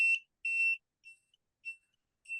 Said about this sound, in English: it's going to make a whole bunch of beeps like every other altimeter does